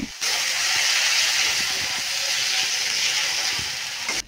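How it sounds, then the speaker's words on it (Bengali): Spices and ginger-garlic paste fry in a pan for a koi fish curry with tomato, making a steady, loud hissing sizzle broken by scattered clicks from stirring. "সবগুলো মশলা ভালোভাবে ভেজে নিচ্ছি।"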